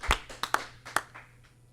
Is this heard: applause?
yes